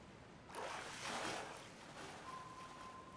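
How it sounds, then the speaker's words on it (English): A boat passes in the distance in the Fishing Planet ocean setting, a faint low rumble that swells and fades over a steady wash of wind and water, with a thin sustained tone near the end. "That's a boat, I think."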